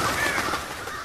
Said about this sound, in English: Ooh! Birds!